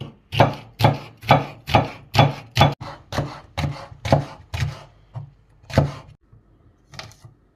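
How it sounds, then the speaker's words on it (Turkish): A knife chops green peppers into julienne strips on a board in steady, evenly spaced strokes, about a dozen cuts, close up, slowing toward the end. "biberlerimizi zulya şeklinde doğrayacağız."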